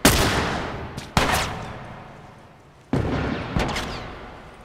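Loud gunshots in The Last of Us, four sharp reports in two pairs, each ringing out into a decaying echo, with no talk.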